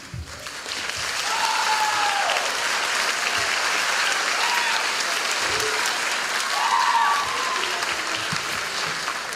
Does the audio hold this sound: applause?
yes